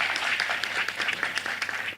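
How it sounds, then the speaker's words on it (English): Brief burst of audience applause at a panel discussion during a conference talk event, with scattered claps close together that fade quickly. "let's give a round of applause for Neil as well."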